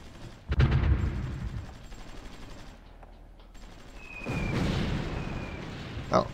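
An anti-air gun fires in the strategy game Supreme Ruler Ultimate, giving a rapid burst of close shots followed by a quieter stretch and a second rumbling volley of gunfire and booms.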